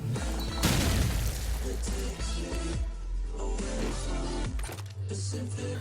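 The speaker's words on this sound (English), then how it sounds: "jump and throw, and it will land in the top flower window" Grenade thrown and exploding in the video game CoD4 ProMod, a loud booming blast rising out of steady game noise, followed by rumbling decay and further clatter.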